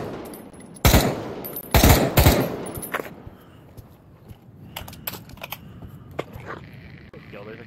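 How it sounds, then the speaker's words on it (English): Gunfire in Pavlov VR comes as a few sharp, loud shots early on, followed by quieter scattered pops and clicks as a voice talks underneath. "there's a guy shooting up in the tower"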